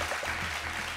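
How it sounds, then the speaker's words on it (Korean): Audience applause at a Christian school-principal competition show, a steady wash of many hands clapping, faint and distant. "이럴 때 박수가 필요한 겁니다"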